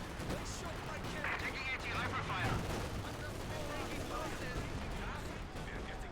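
Major artillery fire in a real-time strategy game, a dense rumbling barrage of distant booms and crackling blasts running steadily through, with someone talking over it.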